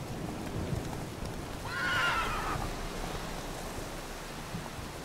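Roach, a horse in the video game The Witcher 3, lets out a clear whinny lasting about a second near the middle, set against a steady noisy backdrop with faint hoof movement.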